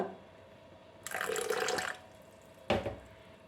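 Water is poured into semolina batter in a steady stream for about a second, followed after a pause by a brief second splash, close and fairly quiet.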